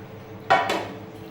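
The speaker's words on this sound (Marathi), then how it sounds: "झाकण उघडायचे." A metal lid comes off a cooking pot with a sharp clank followed by a short, rattling scrape, close and fairly quiet against a still kitchen.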